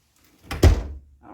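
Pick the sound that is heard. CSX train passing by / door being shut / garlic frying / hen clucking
door being shut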